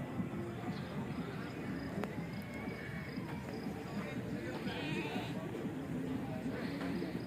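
Sindhi breed goats at a crowded livestock market, bleating repeatedly amid a dense background murmur of people and animals, with voices talking nearby.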